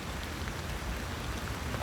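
Steady rain falling outdoors, a dense even hiss of drops on surfaces that holds constant throughout with no voices.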